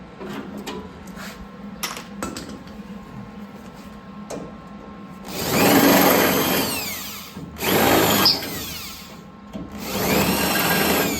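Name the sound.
power drill drilling through car body sheet metal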